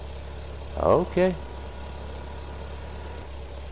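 A tractor engine idles steadily nearby, a constant low rumbling drone that runs through the whole stretch, with one brief spoken word over it.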